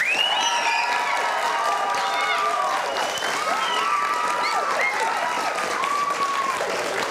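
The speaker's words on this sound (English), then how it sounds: "So let's give our champions a big round of applause." A school auditorium audience at a young storytellers writing contest claps steadily and loudly for the winners throughout, a dense continuous applause with some cheering and whistles mixed in.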